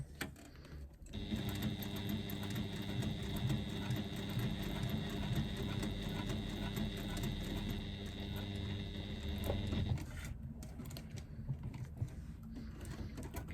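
A sewing machine runs steadily while top stitching a flap, a close, even mechanical whirr lasting about nine seconds before stopping, followed by quieter handling noises.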